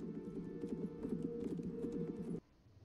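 Horse hooves clip-clop in a steady, rapid gallop during a scene from the fantasy TV series The Rings of Power, loud and continuous before cutting off abruptly near the end.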